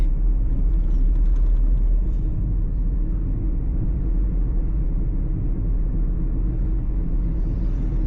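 Car driving in road traffic on Mahé, Seychelles: a steady low interior rumble of engine and tire noise, continuous and fairly quiet, with no voices.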